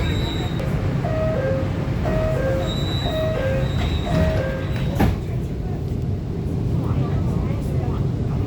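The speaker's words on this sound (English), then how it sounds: "The train is arriving at Hangzhou Station." A Guangzhou Metro Line 8 train arrives at a station, with a loud continuous rumble and wheel hum inside the car and a high-pitched tone or chime near the start.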